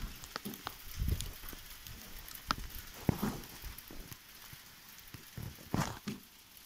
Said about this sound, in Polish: Patrzcie, ściana gradowa. No i grad.